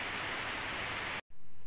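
Heavy downpour hisses steadily and densely, close and loud, with a brief cut before the rain noise resumes.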